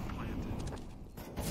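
Rapid gunfire in a CS:GO match between Imperial and FURIA, sharp bursts of shots layered beneath excited commentator talk throughout.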